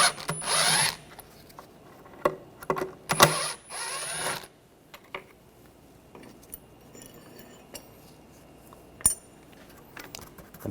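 Socket tool clicking and rattling while a bracket is removed from the intake manifold of a 2009-2013 BMW 328i xDrive 3.0L inline-six, with a few loud bursts of ratcheting early on, then scattered close, sharp metallic taps.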